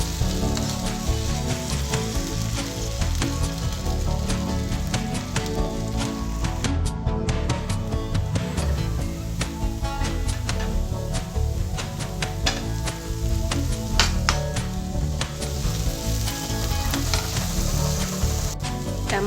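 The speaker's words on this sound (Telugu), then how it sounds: "టమాటో పేస్ట్ పచ్చివాసన పోయే వరకు ఫ్రై చేసుకోవాలి" Tomato paste fries in a pan for aloo gobi pulusu, making a dense, loud and continuous crackling sizzle full of rapid spitting pops throughout, with no one talking.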